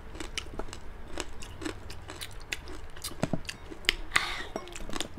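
Crispy pork chicharon bagnet is chewed up close, with repeated sharp crunches and crackles in an irregular rhythm over a low background hum.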